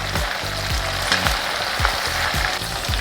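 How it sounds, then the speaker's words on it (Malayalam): Chicken pieces frying in hot oil with curry leaves for a Kerala catering-style chicken roast: a loud, dense, continuous sizzle with rhythmic scraping strokes of a ladle turning the pieces. "ഈ വറക്കുന്ന ചിക്കനിലോട്ട് കുറച്ച് കറിവേപ്പിലയുടെ എടുത്തിടും അതുകൂടെ ഫ്രൈ ആക്കുകയും"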